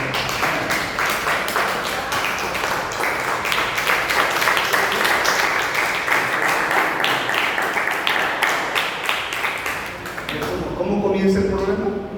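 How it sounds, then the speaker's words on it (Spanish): Church congregation applause at a Cancún intensive training service, dense sustained clapping from a large crowd that fills most of the stretch before fading as a voice resumes near the end. "Dale un aplauso a Dios."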